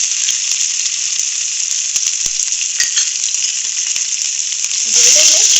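Green chili and ginger sizzle loudly in hot oil with popping jeera and coriander seeds, a steady close frying hiss throughout that swells brighter near the end as more goes in.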